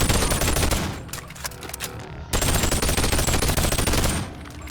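Rapid bursts of gunfire from a two-handed ranged weapon in the Boneworks VR game, loud and dense, with a brief gap near the middle before the firing resumes.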